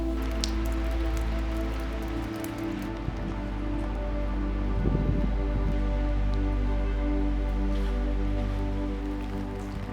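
Rain falling around Penrith and Brougham Castles: a dense, steady patter of drops on hard surfaces with a constant low rumble beneath, close and continuous, a few brief louder splashes mixed in and no talk.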